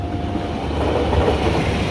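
A passenger train rumbles past nearby at a level crossing in Palur, Karanganyar, Central Java, without stopping, with a steady, heavy roar of wheels on rails and a faint high whine, loud and continuous.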